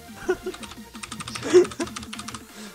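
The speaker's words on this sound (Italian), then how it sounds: "Saluta con la tastiera meccanica" Mechanical keyboard typing during a Minecraft Hunger Games session, a fast run of close, crisp key clicks with uneven rhythm and a few louder strikes, joined briefly by faint voices.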